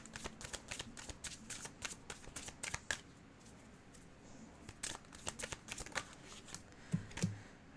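Slippery tarot cards being shuffled by hand, a rapid series of crisp riffling snaps and soft slides in uneven bursts, close and fairly quiet, with no talking.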